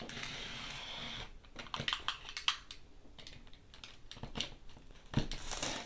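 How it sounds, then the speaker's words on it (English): Plastic shrink wrap on an Android 15 tablet box is cut and peeled away: scattered crinkling and sharp crackles with brief snips, close and fairly quiet, with no talk. "That should be enough just to get the plastic wrap off."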